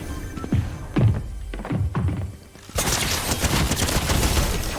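Video game gunfire starts as several separate punchy thuds, then turns into a sustained, dense burst of rapid shots that stays loud and close.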